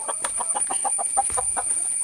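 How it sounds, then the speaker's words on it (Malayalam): A flock of chickens on a home farm cluck in quick repeated bursts, several birds close by, steady and lively over a faint high background whine. "കുറേ കോഴികളുണ്ട്."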